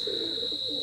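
A teddy pigeon gives a brief, low, soft coo close by, under a steady high-pitched electronic whine.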